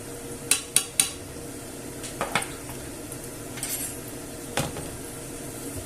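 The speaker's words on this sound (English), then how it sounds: "We'll give it a swirl. We don't want the paprika to burn." Paprika stirred into toasted garlic in a pan, light sizzling under a few metal utensil clinks and scrapes against the pan, close with no talk.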